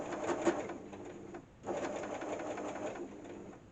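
A sewing machine stitches patchwork cathedral windows with a quarter-inch foot, a steady close whirring run that halts briefly around the middle and then resumes.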